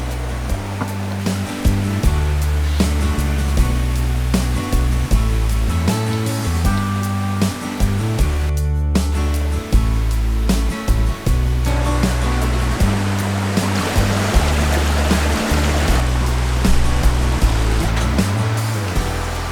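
A mountain valley stream flows steadily below a campsite about 550 m above sea level, a continuous loud rushing of water with no breaks.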